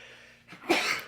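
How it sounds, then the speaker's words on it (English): A single sudden sneeze bursts out loud and close, after a brief intake of breath, in an indoor conversation. "Bless you. You can't cure sneezes though, apparently."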